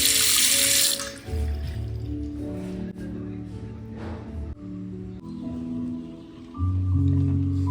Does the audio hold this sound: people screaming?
no